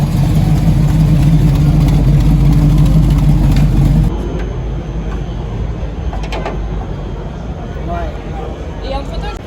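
A Toyota Yaris GR MN with manual gearbox and centre exhaust idles close by at a car meet, a steady loud engine drone that drops to a quieter rumble midway, with talk nearby.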